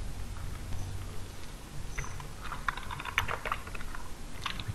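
Typing on a computer keyboard at a desk: quick, uneven bursts of light clicky keystrokes, moderately close, with steady background hum and no talking.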